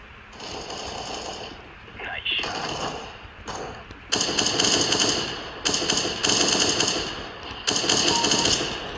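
Rapid automatic gunfire from a deathmatch video game, loud bursts of machine-gun fire in several clusters with short gaps between them, with a voice talking underneath.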